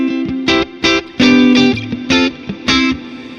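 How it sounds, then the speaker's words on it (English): Fractal FM9 guitar preset with heavy reverb: distorted electric guitar chords struck in bursts, each ringing out into a lingering wash of echo. "pretty cool reverb sound there"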